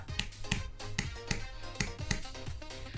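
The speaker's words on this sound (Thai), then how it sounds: "เคาะให้ฟังแบบนี้ครับ" Fingers tap the body of a Maono DM30 desktop microphone, about ten crisp, close knocks in a loose, uneven rhythm, with no talking.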